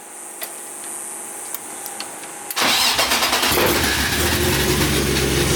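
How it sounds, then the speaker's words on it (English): BMW E36 engine with a slightly sticky, rusty starter cranks briefly after a few quiet clicks, then fires and catches, settling into a loud, close, rough idle. "Starter sticks a little bit, a little rusty."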